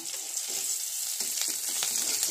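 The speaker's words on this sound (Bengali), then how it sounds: "পেঁয়াজগুলো একটু ভেজে নেবো।" Onions frying in a pan, a continuous bright sizzle with faint stirring scrapes, close and steady with no talk.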